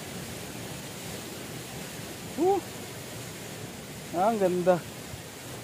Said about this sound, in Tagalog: Grabe kaganda na falls.